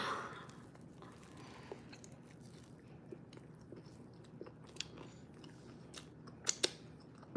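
Someone chews a sandwich of ham, pickles and sourdough bread close to the mic. The chewing is soft and steady, with faint moist smacks and a few sharper crunchy bites toward the end, over quiet room tone.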